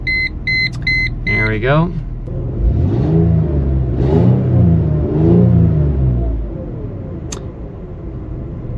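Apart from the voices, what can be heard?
2001 Mercedes ML320 engine starting up and revving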